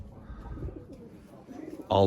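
Tumbler pigeons kept as play birds give soft, low cooing in a loft, a few murmuring calls close by, ending in a louder burst of noise.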